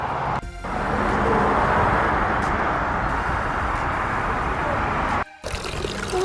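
Garden fountains at a statuary shop, a loud continuous splash and trickle of water nearby, briefly cut by two short gaps.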